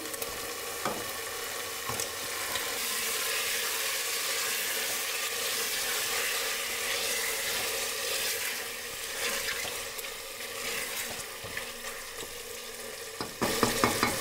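Spices and curry paste being stir-fried (kashano) in a pan, a steady close sizzle running throughout with occasional scrapes of a spatula and a brief louder clatter near the end.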